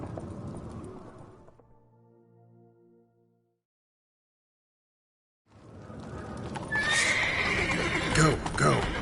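Horses in the Witcher 3 video game, heard as a loud neigh and galloping hooves, then silence, then fast clip-clop hoofbeats with a rush of movement; a voice speaks during the sequence.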